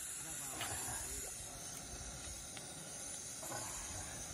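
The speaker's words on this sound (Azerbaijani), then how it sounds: "Bax beləcə qızardırıq balığı." Fish frying in hot oil in a pan, with tomato to be added, gives a steady broadband sizzle and hiss throughout, close and continuous, with a few faint clinks and a voice speaking over it.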